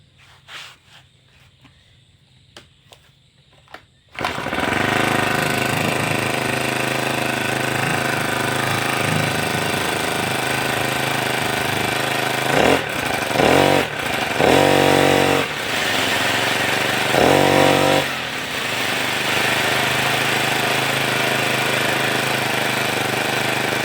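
A small two-stroke brush cutter engine with a loss of power when revved sputters to life after some faint handling noises, then runs with a loud buzzing drone, revving up sharply several times.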